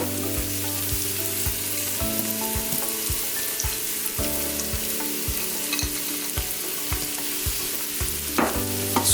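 Garlic and ginger sautéing in a pan, a dense continuous sizzle with regular rhythmic scrapes and clacks of a spatula stirring, close and fairly loud.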